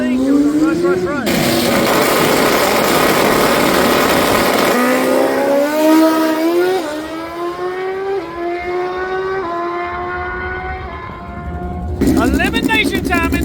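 Turbocharged outlaw-class drag race motorcycles scream loud and close, a sustained roaring wail with engine notes climbing through repeated gear shifts, then a fresh burst of revving near the end.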